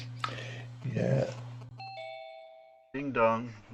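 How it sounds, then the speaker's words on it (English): A house doorbell gives a clear two-tone ding-dong chime that rings out and fades. Voices talk just before and just after it. "Ding dong. We've got somebody at the door."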